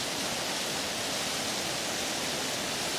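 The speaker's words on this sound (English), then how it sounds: "So I'm naming it Highway 96 Waterfall." Waterfall beside Highway 96 in Custer County, Colorado, a steady, loud, dense rush of falling water that fills the whole clip without a break, with no voices.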